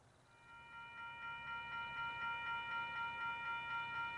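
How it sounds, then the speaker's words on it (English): SteamRanger heritage train arriving at Midleton station on a Christmas lights special, a faint distant rhythmic clanking of wheels with a steady sustained tonal hum, slowly growing louder as it approaches. "The train is seen here arriving at Midleton to commence the run-by before proceeding onwards"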